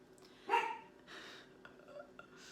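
A dog gives one sharp bark nearby, followed by a few softer, shorter yips in an otherwise quiet room.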